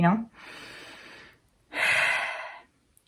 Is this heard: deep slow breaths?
yes